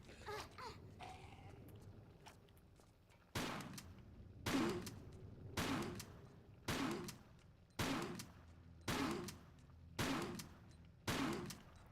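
A shotgun firing in Tomb Raider IV: eight loud, booming blasts spaced about a second apart, each with a sharp attack and short decaying tail, preceded by faint clicks and game noises.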